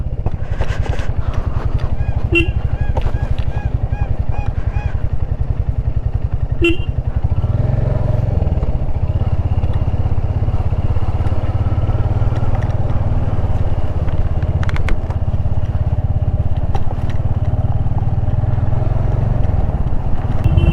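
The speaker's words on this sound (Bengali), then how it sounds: "বাইক স্টার্ট দিলাম, আমাদের রিসোর্ট থেকে আজকে বেরিয়ে গেলাম আমরা।" A motorbike is started and ridden away from a resort, its engine a loud, steady low drone close by, with a few clicks and a faint horn-like tone early on, and a voice speaking over it briefly.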